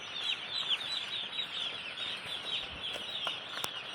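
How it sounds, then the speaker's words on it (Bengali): Young chicks in a brooder bedded with rice husk peep and chirp continuously in a dense, steady chorus, close by with no talk. "মুরগি কিন্তু খুব সুন্দর আছে, খেলছে।"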